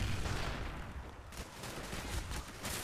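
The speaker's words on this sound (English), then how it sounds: "And then I run into gunfire and die." Dense, continuous rapid gunfire with a rumbling low end, sustained throughout with slight surges, no voices, from Call of Duty: Black Ops, Domination mode on the Jungle map.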